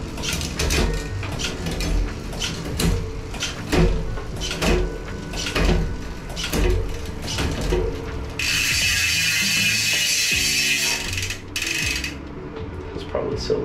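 A bolt being turned on a SRAM AXS rear derailleur in a bike shop, a series of sharp ratcheting clicks in an irregular rhythm, close and fairly loud, followed by a brief burst of brighter hiss.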